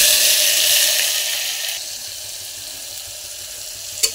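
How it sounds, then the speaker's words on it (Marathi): Onion frying in oil with mustard seeds, cumin and curry leaves: a loud, bright, even sizzle that slowly eases off, ending with a single sharp tap. Close up, with no voices. "कांदा आता छान लाल होईपर्यंत भाजून घ्यायचा"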